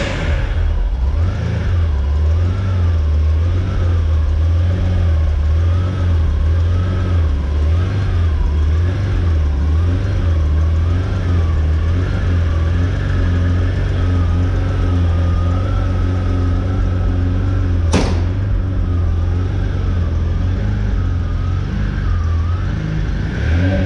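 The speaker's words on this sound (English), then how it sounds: "give you a cold start demonstration on a 1990 Ferrari Testarossa" A 1990 Ferrari Testarossa idles loudly and steadily after a cold start, its engine note close and continuous and rising and falling slightly, with a brief sharp click partway through.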